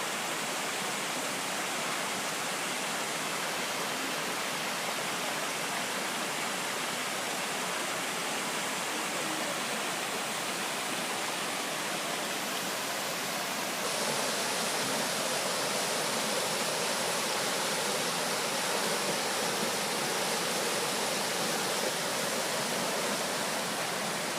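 Indian Creek Falls in the Smoky Mountains pours a fair volume of water, giving a steady, dense roar of falling water that stays constant and close throughout, with no voices.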